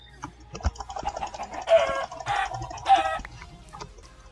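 Chickens in a video game cluck in several bursts, with three louder clusters of calls rising over a quieter background of faint clicks and thumps.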